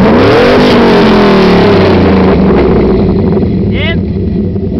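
A 2006 Chevrolet Silverado SS with Pacesetter headers revs its engine loud and close, the exhaust roaring and its pitch rising and then holding steady, with a voice heard under it.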